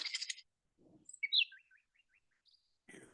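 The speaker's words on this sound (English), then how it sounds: "The sound of adorable little birds in your garden." Small garden birds chirp and tweet in short, scattered bursts against quiet, with a quick trilling run of notes in the middle.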